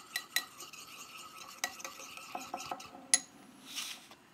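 A utensil stirring crushed pepper seasoning in a bowl, with a series of light clinks and scrapes against the dish, close and fairly quiet, and no voices.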